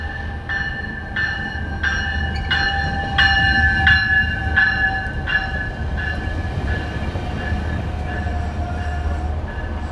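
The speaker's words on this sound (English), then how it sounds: "we're going to get a shot of the southbound coming through right now" A southbound Metrolink Ventura County Line train passes near East Ventura, its horn sounding in a series of loud repeated blasts over a steady rail rumble that continues after the horn fades.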